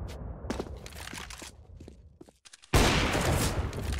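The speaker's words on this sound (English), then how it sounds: "Scopes on him, takes a shot" AWP sniper rifle fire in CS:GO, with scattered sharp gunshot cracks and a sudden loud, sustained burst of noise near the end.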